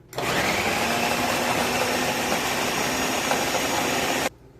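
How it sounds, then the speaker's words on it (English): Blender running continuously while mixing taco al pastor marinade with pineapple juice, a loud steady motor whir with a harsh broadband roar that starts abruptly, holds for about four seconds, then cuts off. "if you have just a really nice blender, you could use that too"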